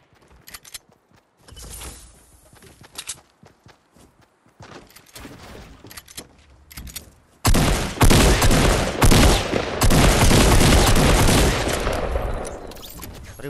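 Gunfire rings out in the Fortnite video game, starting with scattered shots and footsteps that build into a loud, sustained volley of rapid firing over the second half, with no talk.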